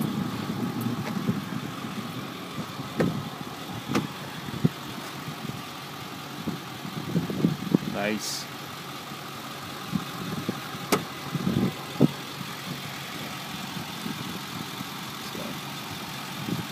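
A 2008 Ford F350 diesel 4x4 with 66K miles idles with the hood up, giving a steady low rumble broken by scattered clicks and knocks, while a voice briefly says a word near the start.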